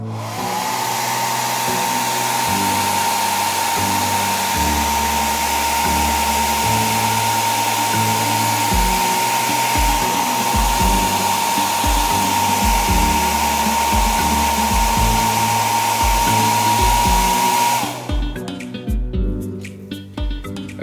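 A heat gun or hair dryer used to heat-set a Whopper Plopper fishing bait blows with a steady, loud whine for about eighteen seconds and then switches off.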